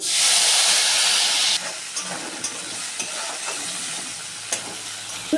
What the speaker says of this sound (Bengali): তেল গরম হয়েছে জিরে দিয়ে দিচ্ছি দুটো তেজপাতা দিয়ে দিলাম